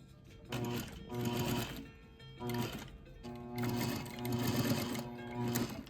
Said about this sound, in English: we're going to stitch that